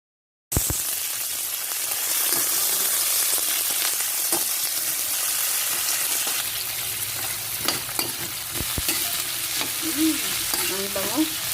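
Garlic, onion and tomato sauté in a hot pan, a loud continuous sizzle starting abruptly after a brief silence, with frequent spoon scrapes and knocks from stirring and no speech.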